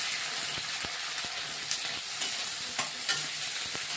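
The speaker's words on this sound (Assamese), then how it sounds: "পিঁয়াজখিনি ভাজি লৈছোঁ।" Chopped onions fry in a pan as a base for Maggi noodles, a constant close sizzle broken by repeated scraping and tapping of a spoon as they are stirred, with no talking.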